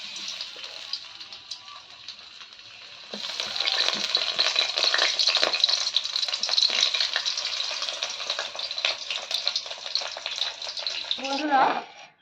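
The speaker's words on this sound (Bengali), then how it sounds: "সব পটলগুলো ভেজে নেব।" Stuffed pointed gourds (potol) fry in hot oil in a pan with a steady, close crackling sizzle that gets louder after a few seconds, with light stirring clatter and a sharp burst of noise at the very end.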